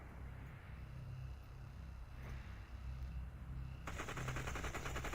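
AKM rifle fire in the battle royale game Population: One sounds as a burst of rapid automatic shots late on, over a low rumbling game ambience, with no talking.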